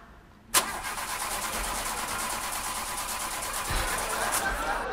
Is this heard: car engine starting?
yes